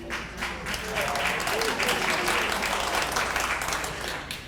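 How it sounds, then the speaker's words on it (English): An audience at a book talk breaks into warm applause, a dense sustained clapping that swells and holds for several seconds before slightly tapering, with a voice faintly over it. "First time I've ever gotten applause for that"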